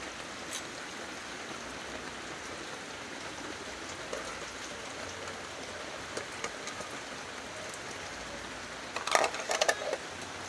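Steady, soft patter of rain falls continuously, with a few sharper drips and taps near the end.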